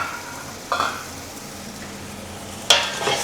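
Chicken tinola with crushed pepper and green chilies is stirred in a pot over a soft, steady simmering sizzle, with two brighter scraping clinks of the utensil against the pot, one early and one near the end.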